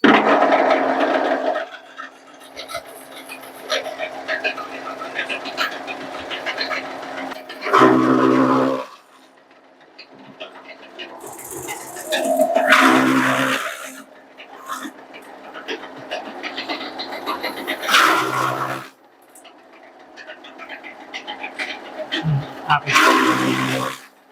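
A high-speed chaff cutter powers up and runs with a steady mechanical drone, its loudness rising and falling as fodder feeds through for half-inch cutting, with bursts of louder chopping and people talking over it.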